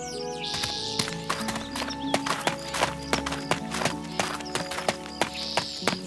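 Steady clip-clop of horse hooves as a horse is ridden toward a forest in the game My Pony Club, a regular, moderately close rhythm with faint bird-like chirps and a soft whinny.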